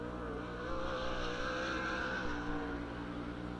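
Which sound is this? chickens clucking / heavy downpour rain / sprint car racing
sprint car racing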